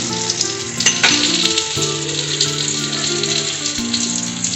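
Spices frying in hot oil in a pan for mango shol, a loud, steady sizzle and crackle with a few stirring scrapes near the start.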